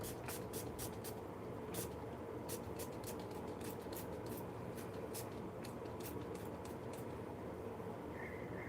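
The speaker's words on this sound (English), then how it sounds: "I feel like I'm not spraying them with enough heat protectant" Heat protectant spray is misted onto hair in a run of short, sharp hissing bursts, some quick doubles and others spaced apart, close and distinct over a low steady background hum.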